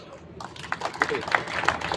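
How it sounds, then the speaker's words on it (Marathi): Audience at a public meeting applauding, clapping that begins abruptly and builds into a moderately loud, irregular round of many hands in a large room. "टाळ्या"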